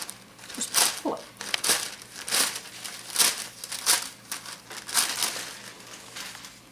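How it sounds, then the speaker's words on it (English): Paper pattern pieces being pulled free and crumpled by hand during a bodice fitting, a run of loud, close crinkling bursts and tearing rustles repeating about every second. "And now to remove the paper, just pull it."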